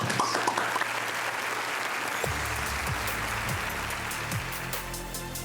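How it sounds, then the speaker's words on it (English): Applause for design award winners at an architecture awards show, a dense steady wash of clapping from an audience that carries on throughout with no voices over it. "let's give all winners a round of applause"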